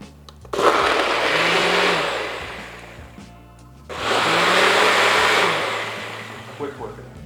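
A Ninja BlendBOSS blender roars through a smoothie in two loud, sustained bursts separated by a brief drop in power, the motor whining and churning up close.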